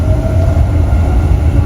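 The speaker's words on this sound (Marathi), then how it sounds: "गाईज मी मेट्रोमध्ये आहे." Inside a moving Dubai Metro train, a loud steady low rumble of the carriage running on its track, with a faint constant whine above it and no talking.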